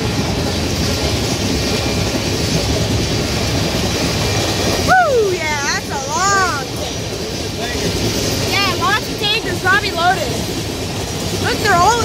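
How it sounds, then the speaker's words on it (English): A freight train of tank cars rolls past at Gridley, California, led by Canadian Pacific AC44 locomotive 8642, giving a loud continuous rumble with rhythmic clatter and squealing wheels as people talk nearby. "Oh, yeah, it's a tank train."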